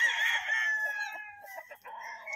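A gray gamecock rooster crows loudly and close by, one long drawn-out call that trails off, followed by a few softer clucks.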